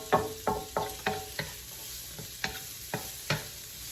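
Onion sautés in a pan with browned garlic, a soft sizzle under a series of regular spoon scrapes and knocks roughly every half second, close and fairly quiet.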